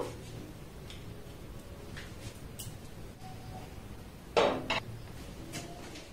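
Milk pithas being lifted onto a plate in a home kitchen: soft, scattered clinks of a utensil against the plate, with one sharper knock near the end, all faint over a quiet room.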